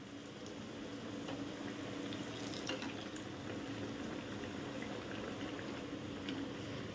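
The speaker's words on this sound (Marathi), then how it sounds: "तर मस्त असं गुलाबी रंगावर आपल्याला हे वडे तळून घ्यायचे आहेत" Fasting-style potato vadas deep-frying in oil over a medium flame: a continuous, even bubbling hiss with small crackles throughout, moderately loud and without pauses.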